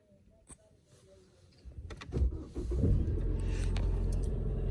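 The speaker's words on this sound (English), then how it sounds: "So let's start it. I have a push start" A Ford Mustang is started with its push-button ignition: a few soft clicks and chimes inside the cabin, then the engine cranks and catches, settling into a low steady idle rumble.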